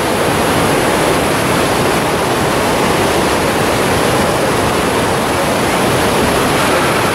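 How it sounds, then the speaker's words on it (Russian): A mountain river rushes loudly and steadily in Dombay, a dense unbroken roar of white water among tall firs with no voices. "Ну и, конечно же, впечатляет сама река."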